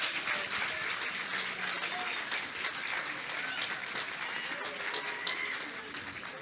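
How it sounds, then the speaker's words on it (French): An audience at a school academic competition final in Montpellier claps in steady, dense applause that holds throughout and eases slightly at the end. "Je crois que vous pouvez vous applaudir."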